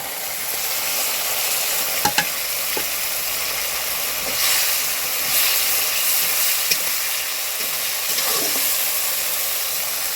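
Pre-fried potatoes hit a hot pan and sizzle loudly, a dense continuous hiss of frying with brief clinks and scrapes of stirring, close and without talk.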